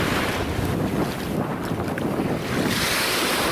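Ocean waves rolling onto a beach in Krabi, a continuous loud wash of surf mixed with strong wind buffeting the microphone, with no voices.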